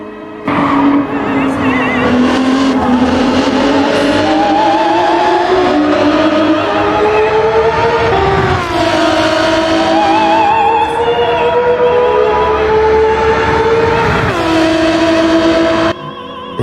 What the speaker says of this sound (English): Just listen to that engine. It's like a symphony of horsepower and passion.